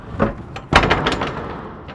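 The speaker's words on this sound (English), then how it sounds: "Then you can open the door safely." The door of a freight trailer opens with a heavy metallic clunk and rattle, followed by a short scraping, shuddering slide as it swings, loud and close.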